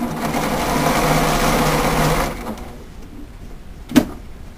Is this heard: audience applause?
no